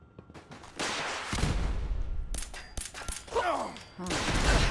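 Rocket fire in a video game: repeated loud launches and booming blasts in quick succession, with whooshing bursts and a rumbling low end that builds toward the close, and brief gaps between volleys.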